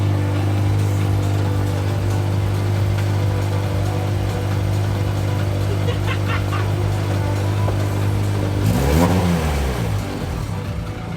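A rally car engine drones steadily at close range from inside the car while it cruises around, a loud continuous hum with brief rattles and a swell of revving near the end.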